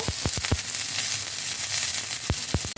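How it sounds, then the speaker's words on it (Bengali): Chopped onions sautéing in a pan, a steady close sizzle broken by several sharp scraping stirs at the start and end. "পেঁয়াজ কুচি, এই সব কিছুকে 2-3 মিনিট ধরে আমি একটু সতে করে নেব।"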